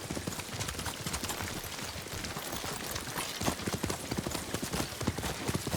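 Horse hooves gallop in a fast, steady clip-clop through rough terrain near a camp in Ghost of Tsushima, loud and close for the whole stretch with no talk over them.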